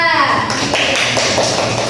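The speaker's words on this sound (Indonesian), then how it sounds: "Kasih tepuk tangan untuk kelompok 2" Schoolchildren in a fourth-grade classroom clap for a group of classmates, a brief, dense patter of many small hands heard up close, with children's voices chattering underneath.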